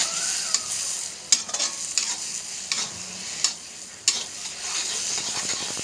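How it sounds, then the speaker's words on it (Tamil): Chili powder masala sizzling in a pan for chicken gravy, a bright steady fry hiss broken by repeated scraping stirs of a spoon, close and with no talk. "ஒரு ஒரு டுவெண்ட்டி டு தேர்ட்டி செகண்ட்ஸ் வதக்குனா போதும்"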